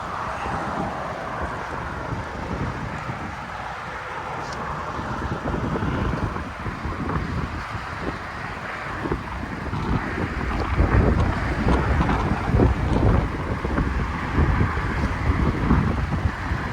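Gusty wind buffeting the microphone, a continuous rumbling roar that grows stronger toward the end, with no voices.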